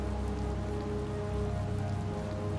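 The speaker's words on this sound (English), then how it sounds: "It's raining after all." Steady rain falls in a video game played on a PS4, a soft continuous patter on surfaces with no voices and no thunder.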